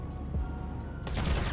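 Gunfire in the video game GTA Online during the Cluckin' Bell Farm Raid mission, a brief dense burst of shots lasting about a second and a half, loud and close.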